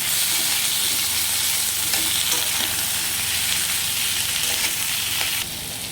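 Onion goes into hot oil with beans in a pan for homemade chow mein, producing a loud, steady, close sizzle that runs unbroken throughout.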